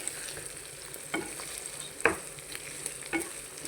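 Large fish roe fries in a hot pan, giving a continuous crackling sizzle broken by a few sharp spatters and stirring scrapes.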